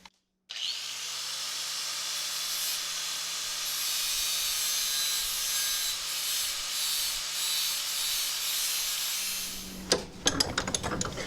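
A blade from a neglected riding mower is sharpened with a power tool, giving a continuous loud hissing grind that runs nearly the whole time before breaking into rattling clatter at the end.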